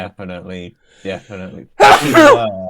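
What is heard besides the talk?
sneeze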